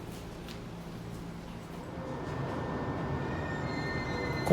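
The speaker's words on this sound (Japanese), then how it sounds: "次に乗る上越線長岡行きの電車です。" A Joetsu Line electric train bound for Nagaoka produces a steady, moderately loud rumble with rail noise and a faint high whine, growing slightly louder toward the end, with no talking.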